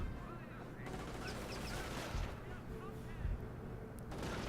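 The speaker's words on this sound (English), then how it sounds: "Alright, light them up with that MG, boys." Machine gun fire and battle sounds from the strategy game Company of Heroes, with dense sustained gunfire, thumps and chaotic combat noise filling the whole stretch at steady loudness.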